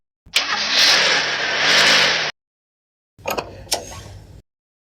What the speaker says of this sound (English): When Wenda came inside the garage and successfully ignites it